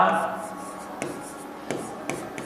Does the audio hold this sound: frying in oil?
no